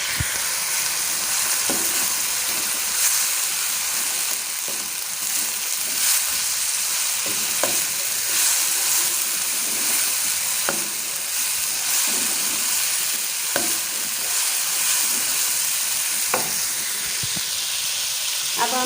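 Biryani masala stir-fried in hot oil with fried onions for Hyderabadi chicken biryani: a loud, continuous sizzle and crackle with a steady hiss, broken by occasional scrapes and taps of the stirring utensil, no talking.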